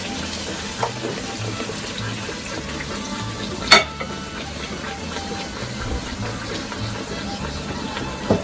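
Bhatura deep-frying in hot oil after a flip, a steady broadband sizzle and bubbling with one sharp clink of a utensil partway through and occasional soft taps.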